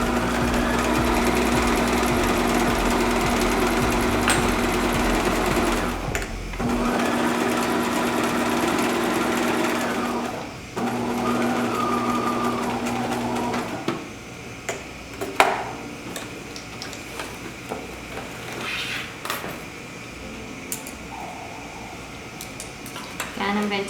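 A sewing machine runs in steady bursts, stitching a denim jacket, its whirring motor loud and close for long stretches. It pauses briefly around the six and ten second marks, then stops, leaving quieter handling clatter and faint talk.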